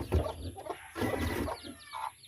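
Pet chickens cluck in a short run of close, busy calls just after feeding, with soft scratching and farmyard rustle between the clucks and no talking.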